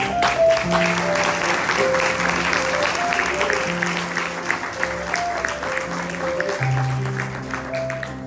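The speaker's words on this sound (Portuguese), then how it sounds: "Louve o Senhor com seus palmas." A church congregation applauding during a sermon, loud continuous clapping over sustained organ or keyboard chords that shift in pitch.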